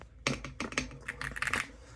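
Quick bursts of typing on an Alua F75 Pro mechanical keyboard, with close, crisp keystroke clacks in an uneven rhythm that comes in brief clusters and fades out near the end.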